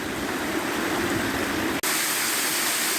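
Waterfalls and a rocky stream on Middle Black Clough in the Peak District pour out a loud, steady roar of rushing water, broken only by a split-second dropout partway through.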